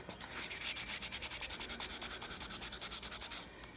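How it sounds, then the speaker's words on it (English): Wet sweet potato scrubbed hard with a Norwex veggie scrub mitt, giving a fast run of close, rhythmic rasping strokes at an even pace until it stops near the end. "if I really, really scrub, I can peel this sweet potato."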